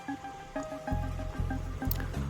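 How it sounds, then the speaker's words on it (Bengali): Flour dough being kneaded by hand with warm water added little by little, giving soft, rhythmic wet squishes and squelches in steady pulses, close up, with no talking. "এবার অল্প অল্প করে উষ্ণ গরম জল দিয়ে ময়দাটাকে মেখে নিচ্ছি"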